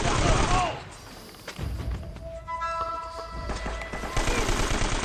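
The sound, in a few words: machine gun fire in video game Uncharted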